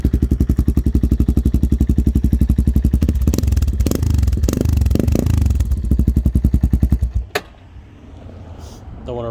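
A 1999 Yamaha Warrior 350 ATV engine idles loudly and close after a cold start, a rapid even single-cylinder thump that runs for about seven seconds before cutting off, leaving quieter background noise.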